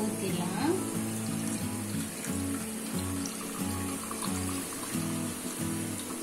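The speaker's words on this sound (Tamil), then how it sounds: "இப்ப ஒரு வடிகட்டி வச்சுட்டு நம்ம வந்து ஊத்திடலாம்." Fresh coconut milk made from desiccated coconut is poured through a strainer in a home kitchen, a steady close trickling and splashing of liquid with faint background sound.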